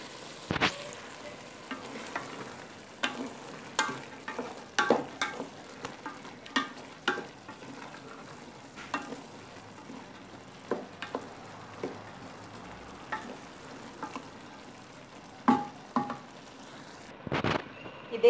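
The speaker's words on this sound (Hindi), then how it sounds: "2 हरी मिर्चों को काट के और 1 टेबल स्पून हरा धनिया डाल के इसको अच्छा सा भून लिया है" Green chilies, coriander and tomatoes frying in oil for a white lobia curry, a quiet sizzle broken by repeated sharp clicks and scrapes of a spoon stirring the pan, with no talk.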